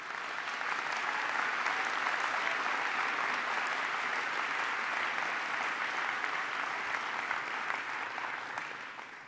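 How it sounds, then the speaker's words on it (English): A convocation audience applauds an award at a university ceremony, a dense sustained clapping that holds evenly for about nine seconds before easing off slightly at the end. "Please, a round of applause for that award."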